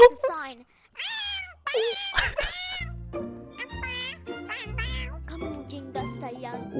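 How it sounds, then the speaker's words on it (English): A cat meows repeatedly in high, drawn-out cries, close and fairly clear, while a voice talks over the later part. "Is this a cat?"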